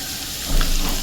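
Whole garlic cloves frying briefly in oil in a pan for a Rajasthani moong dal, a steady sizzle that swells louder partway through and holds, close and continuous with no talking.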